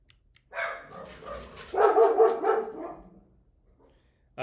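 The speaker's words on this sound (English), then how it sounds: "I swear these dogs are so annoying." Dogs bark outside in a series of loud, close yips and barks lasting a few seconds, with a brief pause and another bark starting at the end.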